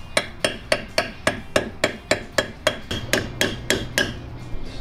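A hammer taps an axle seal into place on a Jeep, about fourteen sharp, evenly spaced metallic strikes in a steady rhythm, close and loud with no talking.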